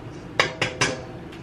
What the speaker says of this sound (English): Crack the egg? Okay, let's crack it.